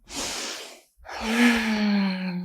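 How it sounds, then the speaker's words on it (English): A slow, deep breath during a yoga session for stress relief: a soft airy inhale, a brief pause, then a long audible exhale that fades out, close and unhurried. "Deep breaths."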